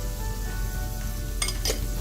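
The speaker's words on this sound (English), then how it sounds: "So I'm going to cook this down on medium heat till the tomatoes are mashed." Ground spices including turmeric, chili powder, Kashmiri chili powder, coriander and cumin frying with tomatoes in a pan on medium heat, a dense close sizzle with two brief metallic clinks of stirring.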